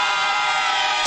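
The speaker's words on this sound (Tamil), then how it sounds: "விசில் அடிக்கிறானுங்க, கத்துறானுங்க." A crowd at Vijay's TVK political rally gives off a steady, loud wash of whistling and shouting, dense and continuous without breaks.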